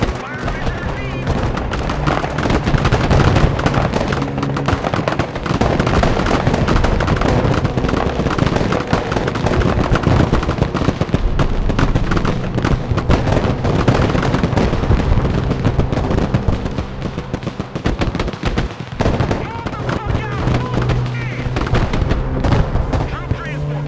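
Artillery fire in the Broken Arrow war game arrives as a dense, continuous barrage of booms and gunfire, with explosions and machine-gun bursts layered throughout and faint radio-style voices mixed in.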